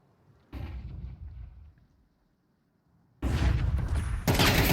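Gunfire from an AWP sniper rifle during a competitive Counter-Strike esports match: one loud, sharp shot ringing out and fading, then after a quiet gap a second burst of heavy, dense gunfire.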